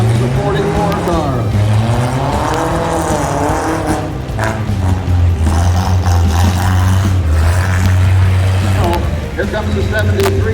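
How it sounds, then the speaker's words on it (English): A 1975 Mercury Cougar demolition derby car drives through time trials at a fairground event, its engine a loud steady drone that rises and falls in pitch, mixed with crowd noise and an announcer talking over it. "tacy Bergevin, my neighbor from Walla Walla, driving a 75 Mercury Cougar"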